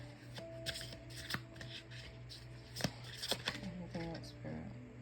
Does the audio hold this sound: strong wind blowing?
no